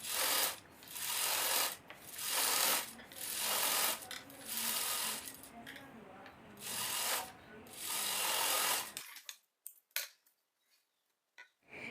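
A sewing machine stitches coat fabric held steady by hand, running in several loud mechanical bursts with short pauses between them, then stopping, leaving a few faint clicks near the end.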